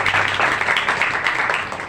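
Applause from a school seminar audience welcoming a guest speaker, steady dense clapping held at an even level for the whole stretch with no pauses.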